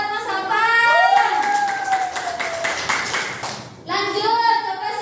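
Class of children clapping for a classmate, a burst of applause running for a few seconds alongside children's voices and a teacher's voice, then fading out as speech resumes.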